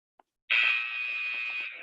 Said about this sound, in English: 5 seconds till that next buzzer.